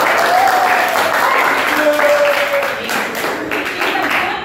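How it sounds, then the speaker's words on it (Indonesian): A classroom full of people clap together in a sustained burst of applause, with a voice briefly audible over it. "Tepuk tangan untuk Dari."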